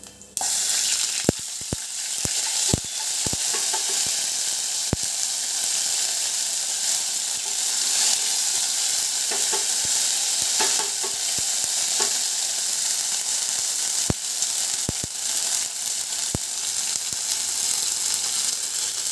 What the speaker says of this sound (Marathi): तेल गरम झालं की जिरं मोहरी घालायचं आहे त्यानंतर आलं लसूणची पेस्ट